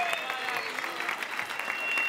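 Audience applause at a village theatre performance in Hinojosa de San Vicente, a steady wash of clapping, moderately loud but slightly distant, with a faint high whistle or feedback tone sustained through it.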